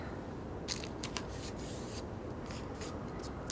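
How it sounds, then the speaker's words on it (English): Adhesive tape pulled off a roll and pressed onto paper while building a paper cone for a space-themed party craft, heard as close, steady scratchy rustling with repeated crisp tearing pulls. "You can take your tape, tape the first part."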